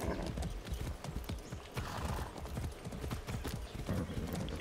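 Steady rhythmic clip-clop of hooves at a brisk gallop in Far Cry 6, close and continuous, with a horse whinnying briefly.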